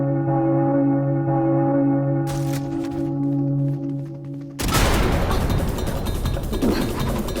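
Single sharp gunshot from the tactical shooter Valorant, a loud broadband crack that cuts in abruptly after steady tonal game music, followed by a dense burst of noisy action sounds.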